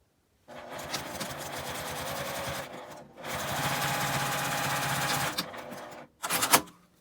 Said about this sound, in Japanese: ここに端ミシンをかけます。